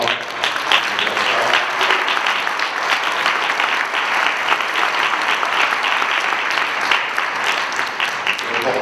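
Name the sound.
audience applauding at political meeting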